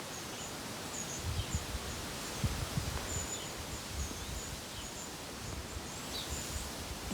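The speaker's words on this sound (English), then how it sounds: "just want you to hear the noise of the leaves in the wind" Wind moves through the trees of a tiny woodland garden, a soft continuous rustle of leaves with faint gusty swells and a few quiet bird chirps in the distance.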